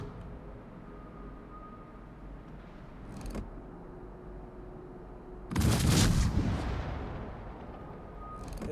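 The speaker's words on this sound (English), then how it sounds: "Transports are taking fire." Video game gunfire rings out as transports come under attack, a steady rumble of distant shots topped by a loud, close burst near the middle that fades slowly.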